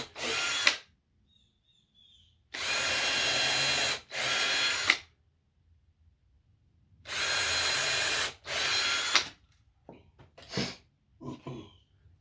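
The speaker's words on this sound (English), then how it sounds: "I'm going to put them in with some number 9x3 wood screws to just hold it in place." A power drill drives wood screws into a stand for an air compressor in close, loud bursts of whining motor noise, four main runs separated by silence, followed by a few small clicks and knocks.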